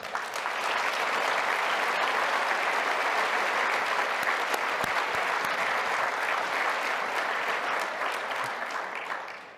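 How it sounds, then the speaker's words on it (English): A large conference audience applauds two panel leaders, a loud, dense, sustained burst of clapping that holds steady for several seconds before tapering slightly at the end. "how about a round of applause for these two guys?"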